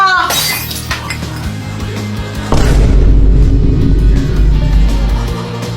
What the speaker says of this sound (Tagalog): Nabasag mo yung base ni Mama!